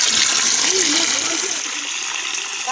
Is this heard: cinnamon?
no